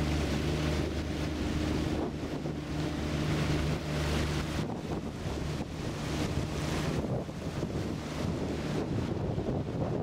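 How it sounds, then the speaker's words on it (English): Strong southern wind sweeps across a wild Siberian lake, Chukuchanka, raising small waves; a loud, steady roar of wind buffets the microphone over lapping water, with gusts swelling and easing, no one speaking. "There's a strong southern wind blowing, creating small waves."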